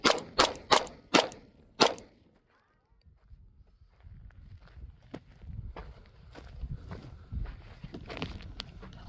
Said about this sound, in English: So what was that, 6 shots?